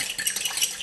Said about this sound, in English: Just get your fork, stir it all through